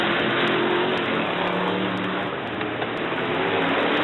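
Brisca F1 stock cars at Brafield in 1983 roar round a bend in a continuous loud rush of engine noise, slightly distant and muffled.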